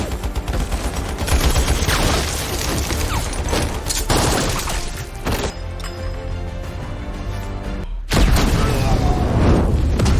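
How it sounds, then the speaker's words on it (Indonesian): Gunfire rattles in rapid bursts around a grenade explosion in a film scene, loud and dense with booming hits, briefly thinning before a heavy renewed blast; voices are mixed into the soundtrack. "Is that a grenade? Mind your ears."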